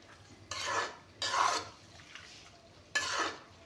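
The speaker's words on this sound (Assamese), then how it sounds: "এতিয়া এইখিনি অলপমান লাৰি দিম।" Arum and fish curry being stirred in a pot, three scraping passes of a spoon against the pot, each about half a second, close and fairly quiet with brief pauses between.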